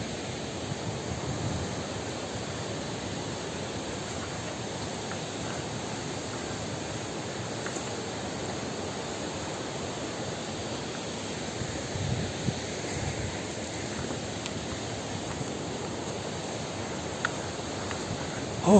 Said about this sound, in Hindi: और यह है वो प्यारा सा खूबसूरत झरना